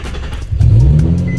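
A Nissan 350Z engine starts after a new fuel pump is fitted, a short crank that catches into a loud, close idle rumble with a brief rise in revs.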